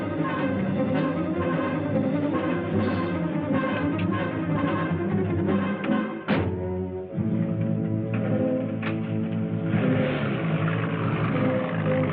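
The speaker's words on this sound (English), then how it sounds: "Go start the motor!" A car motor in a 1959 film runs continuously, loud and droning under a dense music score, with a sharp break near the middle before the steady engine tone resumes.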